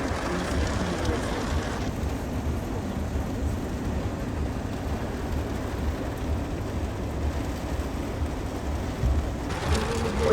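Rain falling steadily during a storm chase on a gravel road, a dense, even hiss of drops on the vehicle surface with low rumble beneath.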